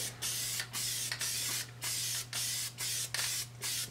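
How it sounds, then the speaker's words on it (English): Contact cement sprays from an aerosol can in short bursts, about eight hissing blasts of roughly a third of a second each with brief gaps, loud and close over a low steady hum. "So spray some on there, then I'm going to just spray it on the back side of this."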